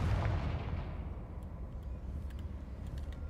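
A Confringo fire spell blast in Hogwarts Legacy booms loudly at the start, then its rumbling tail fades slowly over a few seconds with faint crackles.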